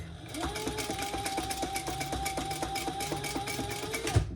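A sewing machine stitches elastic on a diaper backpack with a steady, rapid mechanical whir that runs close and continuous for about four seconds, ending with a small knock.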